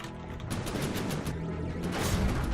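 Cram cannon firing in the game From the Depths, a dense, continuous barrage of booming shots and impacts with repeated sharper blasts, loud and unbroken throughout.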